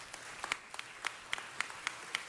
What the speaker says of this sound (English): But give him a big round of applause